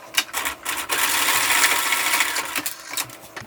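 A sewing machine stitches a quarter-inch seam on a fabric key fob, a close, rapid mechanical whirring with short stops and starts as it backstitches.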